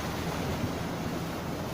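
Ocean waves washing onto a Gulf shore on a foggy day, a steady, soft rushing surf with no distinct breaks, fairly faint and continuous throughout.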